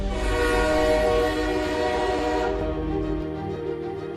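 Amrit Bharat Express running from Sealdah toward Banaras, a long loud horn blast over rumbling wheels that cuts off after a few seconds, leaving the steady running noise, no talk.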